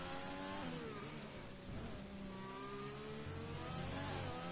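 McLaren race car engine in a racing video game on a fast lap, revving steadily with rising and falling pitch sweeps as gears change, loud and continuous throughout.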